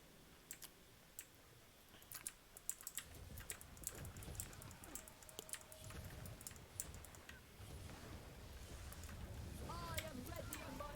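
Computer keyboard keys, including the shift key, click in scattered, fairly quiet taps over a low background hum during a Guild Wars 2 PvP match, with some clustered bursts of keystrokes and faint game sounds.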